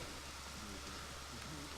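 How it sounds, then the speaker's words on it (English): Steady rain falling at a racecourse under grey skies, a soft continuous hiss with a faint voice murmuring beneath it. "the rain continues to fall"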